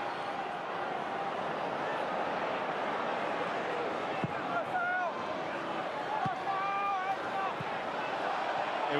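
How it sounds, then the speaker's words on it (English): Crowd noise in a football stadium during Charlton Athletic against West Bromwich Albion, a constant roar rising under the match, with a few whistles and thuds over it. "You can hear the crowd urging Charlton forward."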